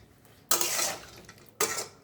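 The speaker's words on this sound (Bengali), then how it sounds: "অল্প করে জল দিয়ে দিচ্ছি, সামান্য একটু দিয়ে মেশাবো" A spoon scrapes and stirs pumpkin curry (kumror chokka) in a pan after a little water has gone in, two short, close, scratchy bursts of stirring with quiet gaps between.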